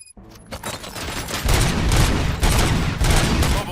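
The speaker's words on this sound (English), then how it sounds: "Gunshots? What's going on?" Rapid gunfire in the RoboCop Rogue City video game, a dense, loud volley of overlapping shots and booms that builds after a brief quiet start and continues without pause.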